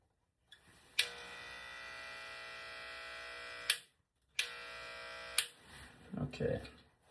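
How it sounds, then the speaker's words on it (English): Electric hair clippers used by a person cutting their own hair: two steady buzzing runs split by a short silent pause, each switched on and off with a click, then some softer rustling at the end. "So we're gonna oil this guy and give myself a haircut."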